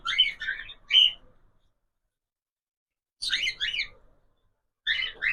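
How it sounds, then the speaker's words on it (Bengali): Bursts of shrill cockatiel chirps come in three short clusters separated by silence, fairly close and sharp, with no talking. "সব পাখি এত আওয়াজ করে"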